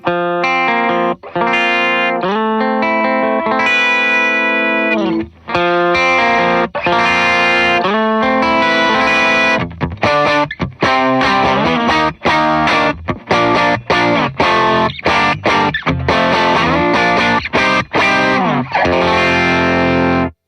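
Distorted electric guitar riffs through a high-gain preset on a Meris Enzo X multi-effects pedal, chugging palm-muted bursts and ringing chords with brief pauses, loud and upfront, no talking.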